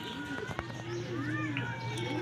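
Racing pigeons arriving at a home loft, with soft cooing and bird calls close by over steady background noise and a faint low hum, brief knocks and flutters scattered through.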